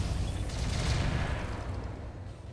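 Airburst mortar fire in the mech combat game RogueTech: a dense, continuous barrage of booming blasts and crackling detonations that swells in the middle and then eases off slightly, with no talking.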